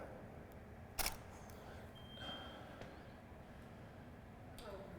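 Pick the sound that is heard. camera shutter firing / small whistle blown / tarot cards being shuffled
camera shutter firing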